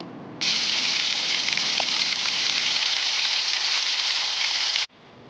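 Onions, tomatoes, green chillies and carrot hit hot ghee with biryani masala for chicken pulao, setting off a loud, close, continuous hiss of frying that holds for several seconds and then cuts off abruptly.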